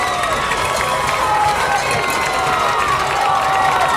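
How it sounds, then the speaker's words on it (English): Crowd roar at a high school football game between the North Clayton Eagles and West Laurens Raiders on a big third down, a steady, loud mass of cheering and shouting filling the stadium with whistles rising above it. "See if the crowd can make some noise."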